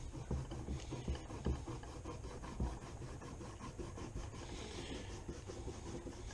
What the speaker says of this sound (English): So all you do is just rub it on the leather here.